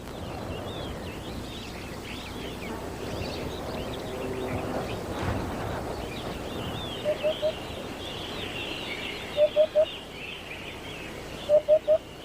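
Forest birds call in a misty, moisture-laden African highland haven, a layered chorus of chirps and trills with a few sharp, repeated piping notes standing out over a soft, steady backdrop.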